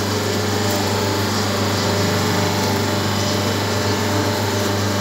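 A semi-automatic hydraulic paper plate making machine runs with a steady, loud mechanical drone and constant motor hum, unbroken throughout.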